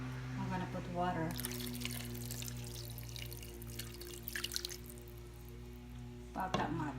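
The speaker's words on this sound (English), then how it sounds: "Then I'm gonna put water." Water is poured into pork sisig in a pan, a short splash and sizzle heard under a person speaking, with a low appliance hum in the background.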